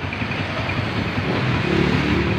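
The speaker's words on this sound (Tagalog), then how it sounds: "Wala kayong maririnig kundi yung makina na lang, wala nang ingay" A motorcycle engine idles smoothly after a piston ring overhaul, its close, steady running hum continuous and free of rattles throughout, with no one speaking.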